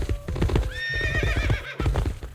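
Horse from a Mongolian Horse Archer unit in the strategy game Stronghold Warlords: brisk clip-clop hoofbeats with a loud, wavering neigh rising over the steps midway, then hooves again.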